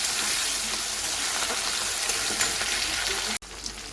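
Tomatoes frying in hot oil in a home kitchen pan, a steady close sizzle and crackle holding for over three seconds before a brief cut and a short resumption.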